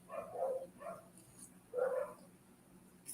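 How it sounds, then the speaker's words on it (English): Several dogs bark in bursts along a residential street, the calls coming in two separate clusters, moderately distant and somewhat faint against a quiet outdoor background. "Something or someone sets the dogs off, and then that's it. It's all up and down the street here. They're all barking."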